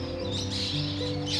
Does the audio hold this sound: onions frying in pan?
no